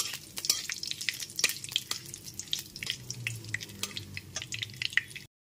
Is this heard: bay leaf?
yes